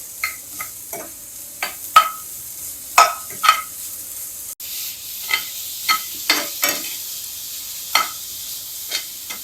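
A spoon scrapes and knocks against a pan in irregular strokes while stirring grated coconut and jaggery into a modak filling, close and crisp, over a faint background hiss.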